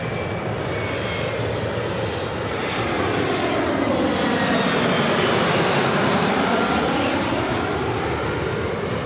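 EVA Air Boeing 777 jet at Los Angeles airport, a loud, close, sustained engine roar that builds and then holds, with a sweeping tonal whine running through it.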